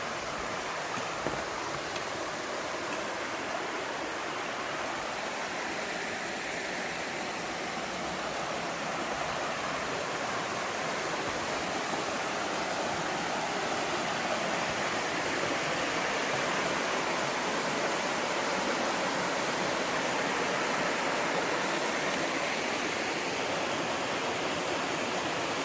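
A river rushes over rocks in Laurel Fork Gorge along the Appalachian Trail, a loud, continuous broadband roar of flowing water that holds steady throughout with no voices.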